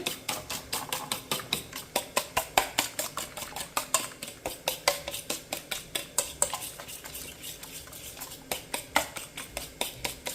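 Egg and brinjal being stirred and scrambled in a pan with Kashmiri chilli powder, a spoon tapping and scraping the pan in a steady, quick rhythm of close, crisp knocks with a faint sizzle underneath and no talking.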